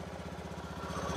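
A Honda Beat fuel-injected scooter engine running just after starting, a steady close putter with an even pulsing rhythm.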